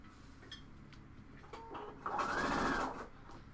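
A home sewing machine stitches fabric for a cowl neck tank top, with a short quiet start and then a louder, steady whirring run of about a second before it slows and stops.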